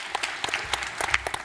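An audience at an elementary school spelling bee breaks into a short burst of clapping, dense and steady for about a second and a half, with no talking.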